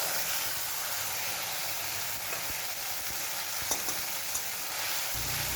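Ground ginger, cumin and dried red chilli paste sizzles steadily in a hot pan of oil while a fish curry is cooked, a close, constant crackling hiss with faint stirring clicks and no talk.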